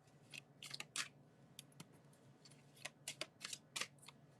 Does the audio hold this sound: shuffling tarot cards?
yes